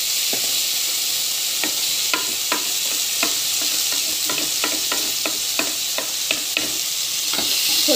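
Tomato, tamarind and cumin frying in a pan for a red lentil chutney: a continuous loud sizzle with sharp spoon or spatula taps and scrapes as it is stirred, and no voices.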